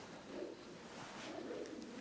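Pigeons coo softly inside an abandoned cinema, low throaty murmurs rising and falling from somewhere overhead in a large echoing space, faint and continuous with no voices.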